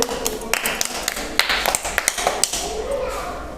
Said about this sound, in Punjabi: ਸ਼ਾਬਾਸ਼ ਬਹੁਤ ਵਧੀਆ ਤਾੜੀਆਂ ਮਾਰੋ ਸਾਰੇ ਬੱਚੇ